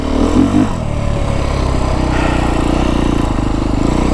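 A 2025 Beta 350 RR X-Pro four-stroke dirt bike engine lugs at low revs in second gear at about 10 mph, a steady, loud, close throbbing rumble with a slight swell near the start.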